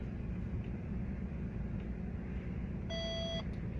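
A single short electronic parking sensor beep sounds near the end over a steady low hum of an idling Nissan X-Trail during perpendicular parking.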